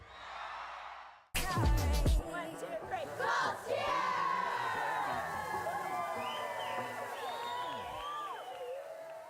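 A large crowd of Indianapolis Colts football fans roars and cheers loudly after a brief burst of noise, with whoops and shouts sustained throughout.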